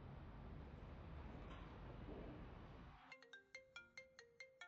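A telephone ringtone sounds partway through, a series of evenly spaced electronic tone pulses that follow a stretch of dull background rumble.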